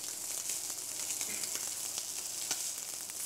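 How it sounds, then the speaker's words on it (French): Scallops searing in smoking-hot oil, a bright hissing sizzle that holds steady throughout, dotted with small spits and crackles, heard close with no voices. "Lorsque l'huile est fumante, je rajoute les Saint-Jacques 1 minute de chaque côté."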